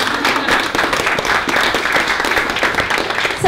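Meeting audience clapping together in a dense, steady burst of applause, loud and close, sustained throughout without speech standing out.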